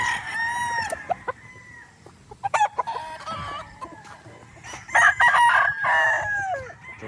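A Raptor Sweater gamefowl rooster crows loudly nearby, with other clucks and crows, short scratchy noises and a second strong crow late on.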